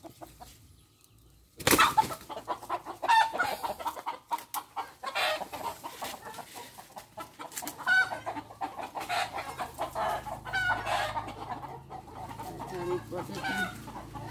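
Chickens cluck and squawk close by outdoors in a yard by the forest, starting with a sudden loud burst after a quiet moment, then keeping up a busy run of clucks, with a brief flutter of wings.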